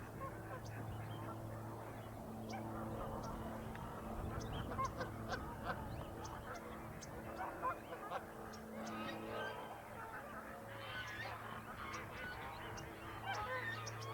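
Canada geese honk repeatedly at a Southern California waterside, with loud nasal calls overlapping in irregular bursts, some near and some farther off, among domestic ducks over a steady background hum.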